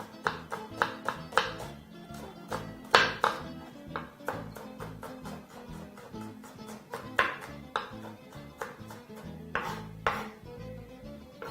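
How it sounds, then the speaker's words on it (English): Rapid, uneven knife taps on a cutting board as an onion is chopped into very small cubes, dozens of quick sharp chops with brief pauses, close and clear. "chopping your onion into very, very small cubes"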